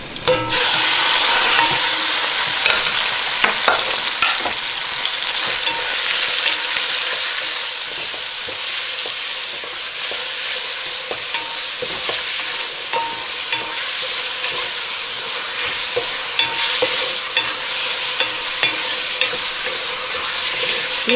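Food fries in a hot pan with constant loud sizzling, while a utensil stirs and scrapes through it now and then, close up and without talk.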